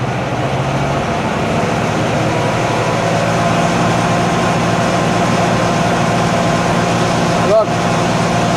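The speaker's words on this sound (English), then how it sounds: "Watch how much louder and quicker the tractor gets." A Kubota L6060 tractor engine drones loudly and continuously with the rhythmic mechanical churn of a snow blower auger, briefly punctuated by a short sharp clank near the end.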